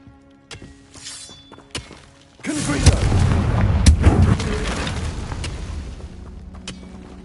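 A Confringo blasting spell explodes in the Hogwarts Legacy video game, a sudden loud burst after a few sharp thuds, followed by several seconds of heavy rumbling and crackling that slowly fades.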